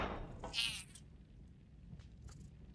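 A cat in a video game gives one short meow near the start, followed by faint higher squeaks, over a low steady background hum.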